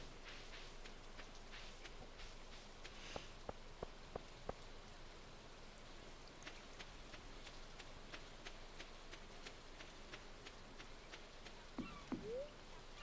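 Steady light rainfall in Stardew Valley patters continuously, with a few soft footstep-like taps and small chimes faintly on top.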